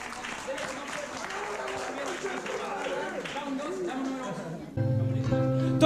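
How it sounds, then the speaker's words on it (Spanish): A crowd applauds after the first round of a rap battle, a steady wash of clapping mixed with shouting voices, before a beat kicks in loudly near the end. "¡Aplauso para este primer round!"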